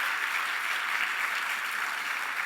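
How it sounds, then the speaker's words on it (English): An audience at a summer learning summit claps together, a steady wash of applause sustained at moderate volume without a break. "Let's give him a round of applause, even though he's not even here"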